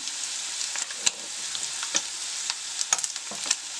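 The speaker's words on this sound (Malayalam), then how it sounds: "നമുക്കത് തുറന്ന് വെച്ച് തന്നെ ഫ്രൈ ചെയ്തെടുക്കാം" Chicken pieces frying in an open pan give off a steady, close crackling sizzle, broken by a few sharp pops and light utensil clicks.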